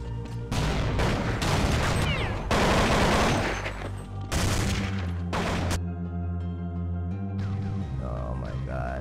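Rapid rifle sprays in Counter-Strike 1.6 on a competitive map, loud close bursts of automatic gunfire in several volleys with short gaps, ending in quieter ringing tones.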